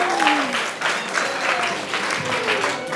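Audience applause at a PAMSI kultum religious talk event, steady clapping from a crowd filling the room with a voice faintly heard beneath it.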